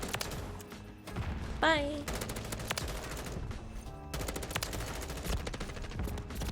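A JAK Patriot M16 fires in Modern Warfare 3, rattling out in fast bursts and sustained sprays of sharp shots, with a brief game effect in between and a short spoken word over the shooting.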